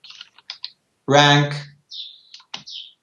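Fingers tap a computer keyboard in short, quick bursts of clicks, close and crisp, broken by a brief spoken word partway through.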